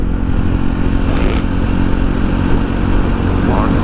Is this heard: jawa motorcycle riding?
yes